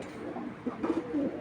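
Pigeons, Pakistani Giribaz flying birds, coo softly in a few short repeated phrases at close range, with no talk over them.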